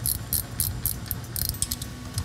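Bolts being tightened on the shift mechanism of a 1969 Dodge Charger R/T, a quick run of close, crisp metallic ratchet clicks in short bursts.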